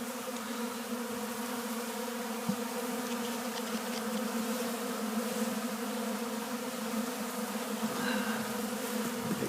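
Honey bees swarm around a protein powder feeder during winter feeding, a thick, continuous buzzing drone that stays steady and close throughout, with one faint knock and no speech.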